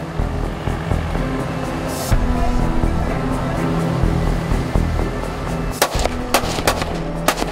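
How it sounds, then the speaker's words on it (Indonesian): Warning shots fired into the water from a patrol boat during an operation against a Vietnamese fishing vessel in Indonesian waters: a cluster of sharp cracks late on over a constant engine and water rumble, with one earlier burst. "Tembakan ke air 2 kali."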